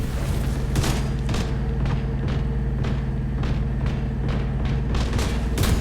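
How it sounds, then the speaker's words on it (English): A grenade blows up in Tom Clancy's The Division 2, with a run of sharp booming blasts repeating over a steady, loud low rumble of game sound, with no talking heard. "So we toss a grenade."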